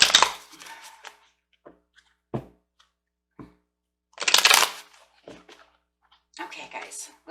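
Angel romance oracle cards being shuffled, giving scattered soft riffles and slaps with pauses between bursts, close and fairly clear.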